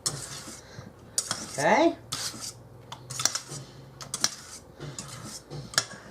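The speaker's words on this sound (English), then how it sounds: "Now you just want to mix it till it's combined." Ham and cheese quiche filling mixed in a bowl with a utensil, producing scraping, clinking strokes against the bowl in an uneven rhythm, close and fairly quiet, with a brief spoken word partway through.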